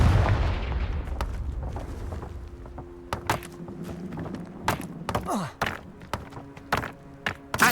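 Confringo fire-blast spell cast in the video game Hogwarts Legacy: a series of sharp, punchy blasts and thuds at irregular intervals over a low rumbling game backdrop, each hit loud and close.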